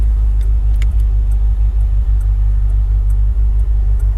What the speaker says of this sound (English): when you downshift it backfires and pops